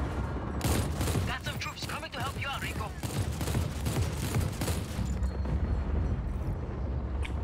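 Dense, continuous gunfire and explosions from the open-world action game Just Cause 4, loud and chaotic throughout, with a voice speaking briefly over the barrage.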